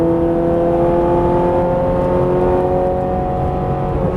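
Ferrari 430 Scuderia engine under throttle on a race track, a loud, steady high-revving drone with strong sustained harmonics throughout, close and continuous with no voices.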